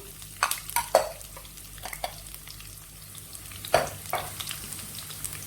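Chopped ginger and garlic fry in hot oil with mustard seeds for a pickle, a low sizzle punctuated by several sharp metallic scrapes and clinks as a spoon stirs the pan, close and clear with no talking.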